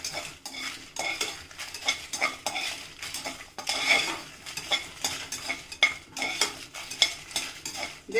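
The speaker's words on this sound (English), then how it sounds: "I am putting my chilies. I have not added any oil for anything." Chilies being dry roasted in a pan without any oil, giving dry rattling and scraping as a spatula stirs them in quick repeated strokes, close and fairly loud, with no talking.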